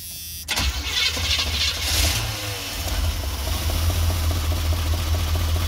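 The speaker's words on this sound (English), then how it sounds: "And went and turned the van on." A Chevy van with a TBI 5.7L 350 small-block engine cranks and fires, then settles into a loud, steady running rumble close by, with a rough idle and no talking.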